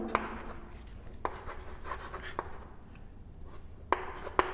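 Chalk or marker writing on a board in a classroom lecture, soft scratchy strokes with a few sharp taps, near and fairly faint over a low background hum, no talk.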